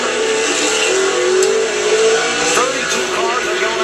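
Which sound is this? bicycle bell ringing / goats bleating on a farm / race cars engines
race cars engines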